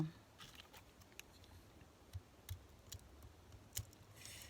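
Quiet, irregular clicks and snips of pinking shears closing, spaced out over a faint background with no talking.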